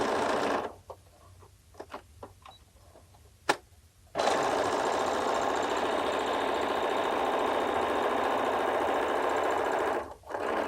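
A modern sewing machine stitches around the edge of a cloth face mask, humming loudly and continuously after a few faint clicks and taps, with a brief pause near the end.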